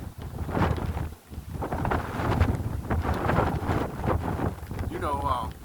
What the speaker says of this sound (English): Dang, this wind is pretty strong.